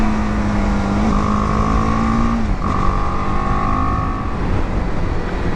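A BMW G310GS single-cylinder motorcycle drones at a steady 60, its buzzy engine note holding loud and even with one gear change partway through.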